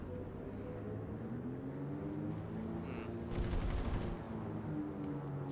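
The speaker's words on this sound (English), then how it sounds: "look at that explosion" A deep boom rolls out in the IL-2 Sturmovik World War II flight combat game, a single muffled explosion that swells over the steady drone of an aircraft engine, then fades.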